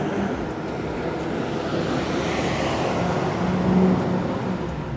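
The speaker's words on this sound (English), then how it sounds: "as a loud bus goes by" A loud bus rumbles past nearby on a residential street, a broad steady roar that swells slightly toward the end, with no voices.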